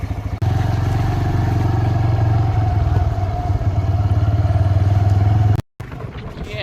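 An inexpensive, basic motorcycle idles and runs steadily at the start of a road trip, a loud close-up engine drone that cuts out briefly near the end.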